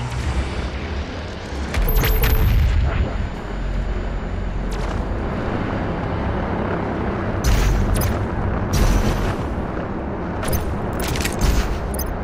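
The BFG 10,000 super-weapon fires on the Mars Core level of Doom Eternal, giving a loud, sustained booming rumble with heavy blasts bursting through near the start and again toward the end.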